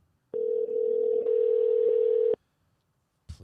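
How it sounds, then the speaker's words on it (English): A steady telephone dial tone holds for about two seconds while an outgoing call is being placed, then cuts off abruptly into near silence before a faint noise at the end. "it's dialing."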